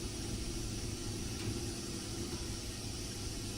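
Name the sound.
steam locomotive injector sound, like a flushing toilet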